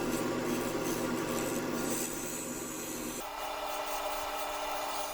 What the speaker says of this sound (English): This carbide just made it a little bit easier to shape it and take care of the resin at the same time.